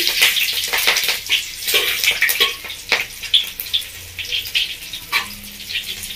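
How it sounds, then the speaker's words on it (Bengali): Nigella seeds and two green chillies frying in hot oil, a dense steady sizzle and crackle with brief sharper pops, close and fairly loud, no talking. "তেলের মধ্যে দিচ্ছি 1 চামচ মতো কালো জিরে, আর দিয়ে দিচ্ছি 2টো কাঁচা লঙ্কা। ভালো করে ফোড়নটা ভেজে নেব।"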